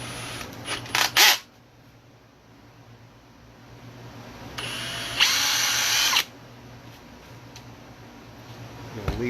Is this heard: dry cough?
no